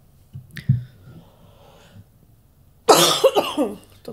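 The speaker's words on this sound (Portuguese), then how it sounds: "Deu um suspense essa tosse." A single short cough bursts out loud and close near the end, after a quiet stretch with a faint snap-like click early on.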